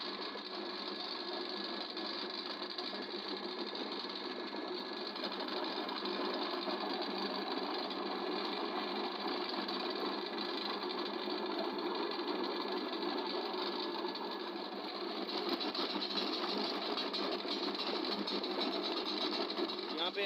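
Electric grinder steadily whirring as it grinds tomatoes, chillies, garlic and ginger into paste in a restaurant kitchen, a loud continuous drone with a slight change in pitch partway through.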